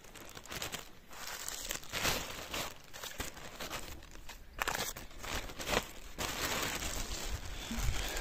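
A small package is wrapped in crinkly packaging outdoors by a river, giving continuous close rustling and crumpling with brief pauses between handfuls.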